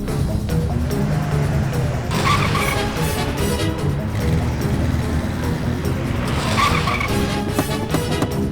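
Car pulling away fast with tires squealing and engine roaring, a loud skidding burst near the start and another later, steady engine noise throughout, with no speech over it.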